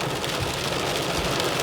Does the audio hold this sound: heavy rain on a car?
yes